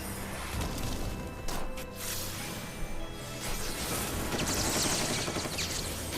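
Spread Shot, a Machinist's scattering gun attack in Final Fantasy XIV, fires as a few sharp, cracking bursts with swishing and shattering accents against a steady game backdrop.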